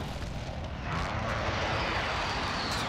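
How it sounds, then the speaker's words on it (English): A jet aircraft roars overhead during an airstrike in the Call of Duty: Modern Warfare beta video game, a loud sustained rushing engine rumble that swells and holds steady. "Allied precision airstrike incoming."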